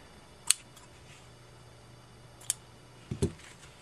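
Scissors trim grosgrain ribbon with a few sharp, close snips spread out in time, the last a quick double cut, against a quiet room background.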